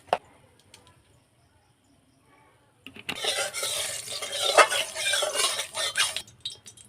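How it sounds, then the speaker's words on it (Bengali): Chana dal is mixed by hand with salt and turmeric, a brief tap and then a few seconds of dense, close gritty rustling and squishing of the grains. "ডালের মধ্যে অল্প একটু লবণ, হলুদ দিয়ে ডালটাকে ভালো করে মাখিয়ে নেব।"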